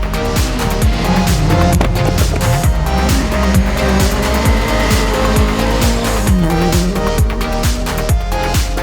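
Nissan 200SX rally car at a classic forest rally, engine loud and close with rapid gear changes, rising and falling revs and brief tire squeal, continuous throughout with no talking.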